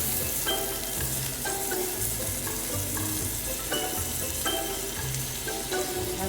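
An omelet fries in butter in a pan with a steady, close crackling sizzle, broken by repeated soft scraping and stirring strokes from a utensil.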